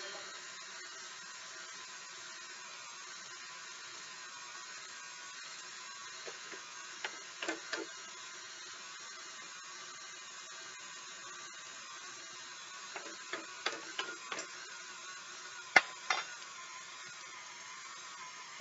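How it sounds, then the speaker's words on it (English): A stand mixer motor hums steadily while mixing chocolate chip cookie dough, with scattered clicks and knocks from the bowl and beaters in a few short bursts. "Until it's getting thicker, you can hear that motor changing."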